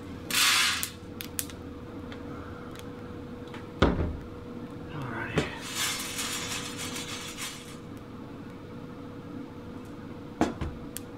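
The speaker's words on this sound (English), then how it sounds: "Just heard a few more cracks, which I guess are going to be second crack" Coffee beans roasting in a popcorn maker give off a few sparse, sharp cracks over a steady low fan whir, with a brief hissy rattle near the start.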